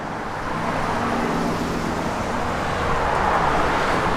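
A 1971 Dodge Demon's engine idles steadily with a low, even rumble, close by and with no talking.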